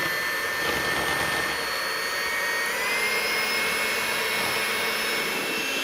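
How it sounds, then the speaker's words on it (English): A hand mixer whips egg whites toward stiff peaks, giving a loud, steady high-pitched electric whir that runs unbroken and alone, with a faint tonal whine rising slightly partway through. "Now we're gonna switch over to the hand mixer, and we're gonna blend our egg whites."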